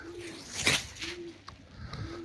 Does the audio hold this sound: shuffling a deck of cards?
no